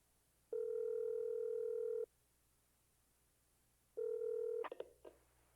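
Telephone dialing in a FNAF animation: two long steady touch-tone beeps separated by a pause, then a quick burst of short dial clicks, clear and alone without talk.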